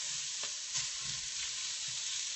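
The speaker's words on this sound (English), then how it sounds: "So I'm going to do another flip around here, just a quick, easy, gentle stir." Sweet potato pieces being stirred gently in a hot pan, a steady sizzling hiss with soft scraping of a utensil underneath, close and continuous without any voices.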